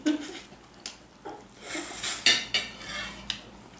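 A spoon twirls spaghetti bolognese against a plate, producing close, bright scraping and clinking strokes in a short irregular series.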